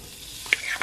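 Earth Balance vegan butter melting in a pan over medium-low heat on a stovetop: a brief, gentle sizzle with a couple of sharp crackles near the end.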